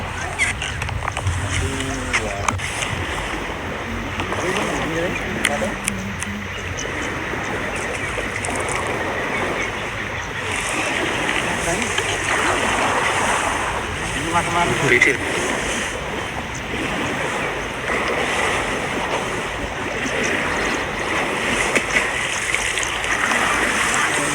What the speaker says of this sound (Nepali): स्टार्टिङमा एउटा सानो नदी आउँछ जसलाई चाहिँ हात्तीले क्रस गर्छ।